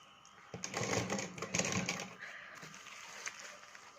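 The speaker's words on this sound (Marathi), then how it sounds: "असा पाव इंचाची शिलाईमध्ये आपण शिवत यायचं." A sewing machine runs a quarter-inch seam attaching the neck of a lined katori blouse, giving a quiet, close mechanical whirr with light clattering that eases off toward the end.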